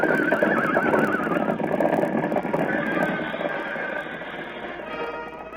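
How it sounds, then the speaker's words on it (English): A horse neighs and whinnies loudly on a ranch while hooves clip-clop beneath, the call fading slightly toward the end with no voices. "Now toward the ranch house comes another horse."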